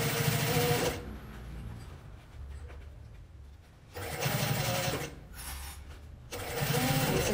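A domestic sewing machine stitching bias tape runs in three loud bursts, about a second at the start, a longer middle run and a final stretch, with quieter pauses between them.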